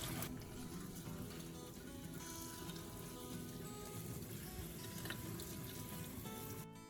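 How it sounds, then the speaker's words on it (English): Running tap water rinsing fresh mint leaves in a sink, a steady close splashing wash that holds evenly from start to finish with no pauses. "then rinse it again with clean water"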